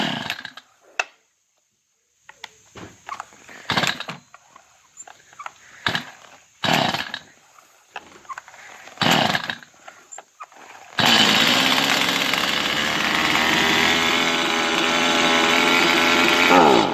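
A Stihl MS210C chainsaw is cranked with several sharp recoil-cord pulls, each a brief rasping burst with pauses between, before the engine catches and runs steadily and loudly at close range.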